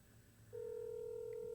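A telephone emits a short burst of dialing tones, then a single steady electronic tone holds on, clear and fairly quiet over a faint background hum, with no voices.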